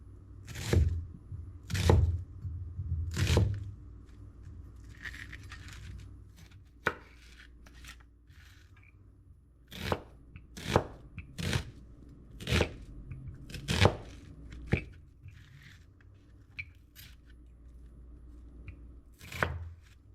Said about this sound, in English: I'm going to dice up my onion